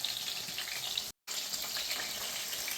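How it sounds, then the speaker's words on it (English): Northern Pike pieces frying in a pan give a steady, close, bright sizzle with crackling spatter, briefly cut by a short gap, and no talking. "these are frying up nice"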